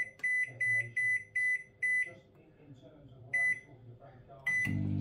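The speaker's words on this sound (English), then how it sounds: "Microwave." A microwave oven cooks frozen jacket potatoes on a plate, giving a run of short, evenly spaced beeps, a pause, a couple more beeps, then a steady low hum as the oven starts running close by.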